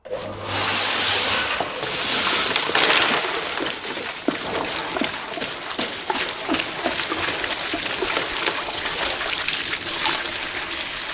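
Liquid drains from a tank on a Range Rover into a container, making a steady close trickle and splatter with a few light knocks. No one speaks.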